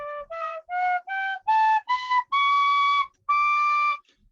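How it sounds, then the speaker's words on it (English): A penny whistle blown gently through its low scale, eight clear ascending notes played one after another with short gaps, close and solo with no talking. "It's called a penny whistle."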